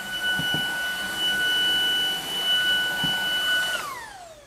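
A Dibea F20 Pro cordless stick vacuum with a 250 watt brushless motor runs steadily with a high whine and broad airflow hiss, a few soft bumps underneath, then powers down with a falling pitch near the end.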